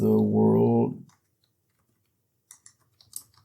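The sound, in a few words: typing on a computer keyboard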